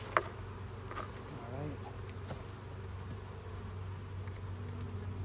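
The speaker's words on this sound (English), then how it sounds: "There's a lot of bees in the outer cover" Honey bees buzz steadily around an open hive during a honey harvest, a continuous close droning hum with a low steady tone beneath it, and a person briefly speaks near the start.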